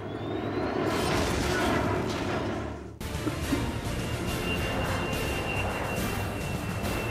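Three Pakistani F-16 jet fighters rendered as news animation: a continuous, loud roaring jet-engine rush with a brief dip and fresh surge midway, and no talk.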